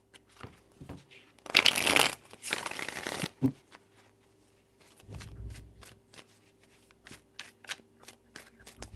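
Tarot cards are shuffled by hand in a couple of loud riffling bursts, followed by softer taps and handling of the deck, close and without talk.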